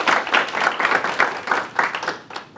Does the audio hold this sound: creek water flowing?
no